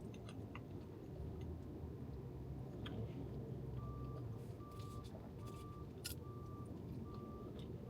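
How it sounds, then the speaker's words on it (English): A big truck rumbles nearby, a faint low drone that is fairly distant. A steady run of high electronic beeps repeats at an even pace over it. "That's a big truck, bro."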